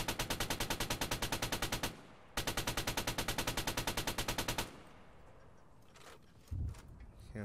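Automatic machine gun fire in the ARMA 3 video game: two long, rapid, evenly spaced bursts that are loud and close, separated by a short gap, then fading into quieter rumbling shots and distant noise.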